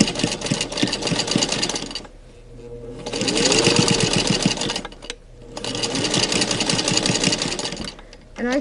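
A sewing machine stitches over the side pleat of a quilted five-layer surgeon-style fabric mask in close, loud bursts of rapid needle chatter, pausing briefly twice between runs.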